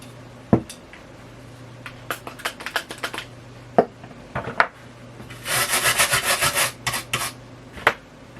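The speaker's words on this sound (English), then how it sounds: "the socket treated with compressed air and contact cleaner" Compressed air and contact cleaner sprayed onto a chip socket on a Commodore 128 board: a loud, steady broadband hiss lasts about two seconds, with scattered clicks and handling knocks before and after.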